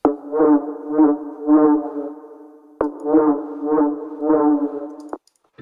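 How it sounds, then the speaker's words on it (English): Rolling bass line in dark liquid drum and bass, repeating pulsing tones in two identical phrases with a short break, fairly loud and alone without speech. "to fill up the mix a little bit more, I added another rolling bass"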